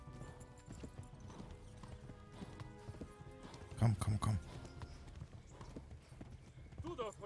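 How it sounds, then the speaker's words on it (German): Horse hooves in the video game Kingdom Come Deliverance, rhythmic clip-clop under someone speaking German, with a louder burst of hoofbeats and a possible whinny midway through. "Tut mir leid, Pferd, aber wir müssen im Galopp"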